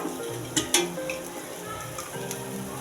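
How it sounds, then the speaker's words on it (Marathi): Rava-coated surmai fish fries in oil in a pan, giving a close, crackling sizzle with a couple of sharp metallic clinks early on and no talking. "व्यवस्थित दोन्ही साईडने छान असे फ्राय करून घ्यायचे आपल्याला"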